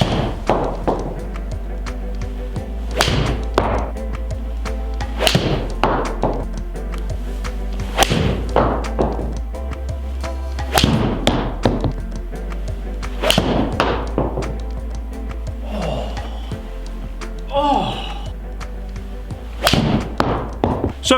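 Callaway Apex Pro and Apex Forged irons strike golf balls in a run of about ten sharp, solid impacts spaced a few seconds apart over a steady low background hum.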